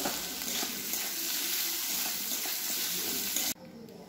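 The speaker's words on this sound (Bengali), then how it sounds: "আর ক্যাপসিকাম হালকা ভাজবো।" Sliced capsicum lightly frying in a pan for chili baby corn: a steady, close sizzling hiss that runs evenly for about three and a half seconds, then drops abruptly to a much quieter hiss.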